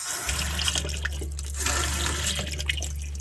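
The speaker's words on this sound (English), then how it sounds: "Takes a little bit for water to get through." Water running from a kitchen faucet with its aerator removed after clogging, splashing steadily into a sink at close range with a constant rushing hiss.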